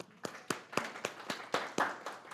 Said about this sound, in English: A round of applause for Fiona.